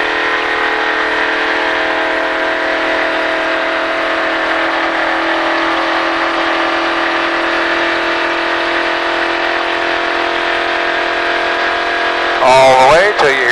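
A NASCAR stock car engine in a Richard Petty driving setting holds a loud, steady droning roar with a sustained harmonic whine, slowly rising in pitch, ending with a brief warbling burst.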